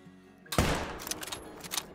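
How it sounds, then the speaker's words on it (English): A single heavy gunshot from a .338 bolt-action sniper rifle in the hunting game Call of the Wild, sharp and loud, followed by a rolling echo and faint trailing crackles. "Oh, that's going to be a shot."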